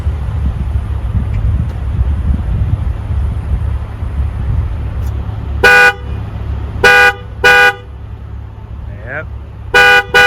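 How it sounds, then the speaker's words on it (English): A Tesla Model S Plaid stuck honking on its own, its horn blaring in several loud, clear blasts, a pair of short toots followed by longer ones in an uneven pattern. They cut over steady wind and road rumble outdoors. "it will not stop honking its horn."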